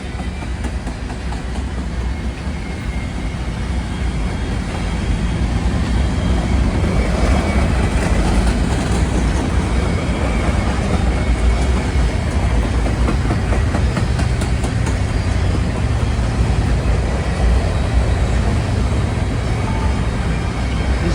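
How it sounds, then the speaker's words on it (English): Massive freight train with SD75I locomotives and a distributed power unit rolling past near McMillan Yard in Toronto, a loud, steady rumble and rail roar that swells after a few seconds and holds without a break. "This train is enormous."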